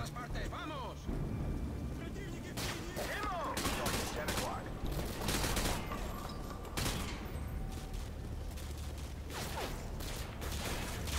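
Dense, heavy gunfire from the video game Call of Duty Modern Warfare 2, with overlapping bursts and loud shots sustained throughout, mixed with game noise and a voice.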